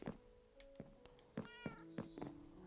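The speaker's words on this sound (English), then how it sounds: "That's her cat." A pet cat meows several times in short, close calls with brief pauses between them, clear and alone.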